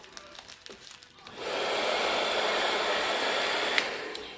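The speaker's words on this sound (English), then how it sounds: "I'm going to turn the dryer on. It's going to be quite loud" A hair dryer switches on partway through a salon blowout and roars steadily and loudly to the end, after a quieter stretch of faint handling noise.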